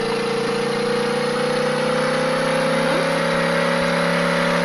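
A steady car engine idles with a constant low hum and whine, continuous and fairly loud throughout, with no talking.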